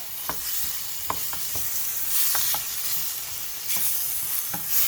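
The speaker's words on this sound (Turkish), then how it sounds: "Bunları da böyle güzelce soteliyoruz arkadaşlar" Steady sizzling of diced tomatoes and peppers sautéing in a hot pan, with occasional stirring scrapes and clicks of a utensil, close and continuous without talk.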